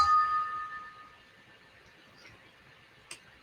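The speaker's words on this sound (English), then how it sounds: "Let me give you a little bell here." A small bell rings once at the start of a quiet meditation session, its clear tone fading slowly into near silence, followed by a faint soft tap later.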